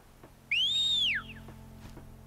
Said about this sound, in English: Whistled for the mount, and you were walking by a park, and everyone heard the whistle.